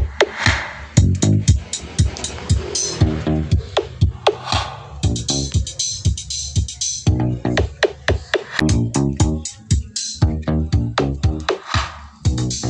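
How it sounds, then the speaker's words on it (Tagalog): Loud dance music pumps through two 2-way passive speakers driven by an amplifier, with punchy rhythmic beats and bright synth chords filling the room, no talking over it. "ito po yung tunog ng dalawang speaker po natin gamit yung amplifier na ito."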